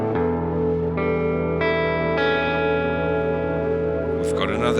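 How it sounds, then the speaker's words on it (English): An electric guitar played through a distortion patch on a BOSS GT-1000 rings out in sustained, layered chords that build with delay and shift pitch several times, loud and continuous. "What we're going to do is put on this distortion."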